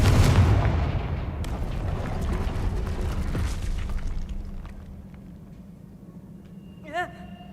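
The Confringo fire-blast spell explodes in Hogwarts Legacy with a loud booming burst that rolls off into a fading rumble. A faint voice sits low underneath, and a short whooshing sound comes near the end.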